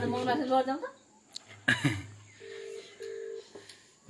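A telephone rings faintly in a home, giving a few short, evenly spaced tonal beeps under and after people chatting nearby.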